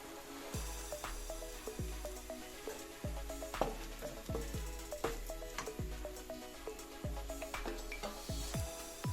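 A spiced masala of turmeric, chili powder and salt being stirred in a pan for paneer butter masala, with steady sizzling and repeated close scrapes and clinks of the spoon against the metal pan.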